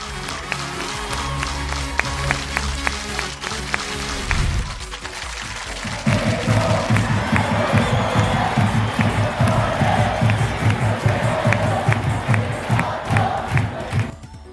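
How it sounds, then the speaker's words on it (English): A stadium crowd at a sports event cheers and chants through a remote cheering app, starting with a dense roar and then settling into rhythmic, clapping chants that repeat loudly and steadily. "Cheers can also be customized based on the competition or event."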